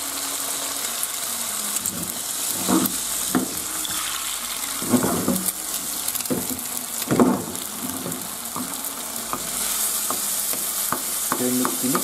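Eggs added to a pan and stir-fried for a dish of chayote with minced pork: an even, crackling sizzle with repeated scraping stirs and spatula knocks at close range, no talking.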